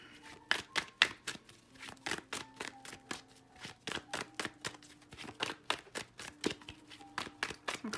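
Tarot cards being shuffled by hand, a quick series of crisp riffling flutters and taps in an irregular rhythm, close and fairly quiet.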